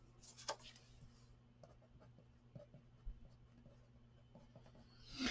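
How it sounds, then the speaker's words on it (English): A pen writes on paper while measurements are noted during a papercraft Halloween wooden memory dex holder project, producing faint, close scratching strokes in short intermittent bursts against a low steady hum. "Let me write that down."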